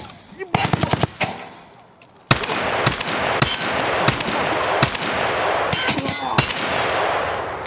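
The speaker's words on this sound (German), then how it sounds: "Ey, uns beschießt was." Gunfire in Escape From Tarkov: sharp bursts of automatic shots crack in quick clusters, loud and close, pausing briefly before several more volleys rattle over a noisy background, with a voice faintly underneath.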